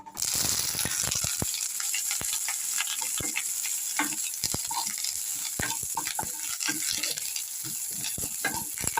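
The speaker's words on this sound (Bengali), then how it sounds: "তেল দিয়ে এবার আমি এক নিম পাতাটা ভেজে নিই" Neem leaves fry in hot oil in a wok for a fish curry, giving a loud, steady sizzle with frequent sharp clicks and scrapes from stirring throughout. No voices.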